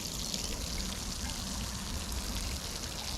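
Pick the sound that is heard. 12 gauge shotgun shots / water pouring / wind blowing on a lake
water pouring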